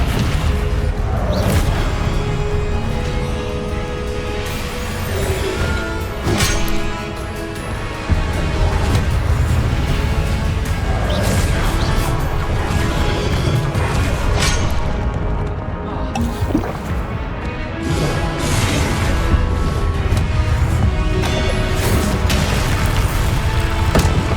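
Spell blasts and explosions in Hogwarts Legacy combat: repeated booming impacts and crashing bursts layered over a dense, loud, continuous battle din, with no speech audible.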